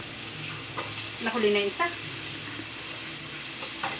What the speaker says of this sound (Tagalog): Fry the onion and garlic.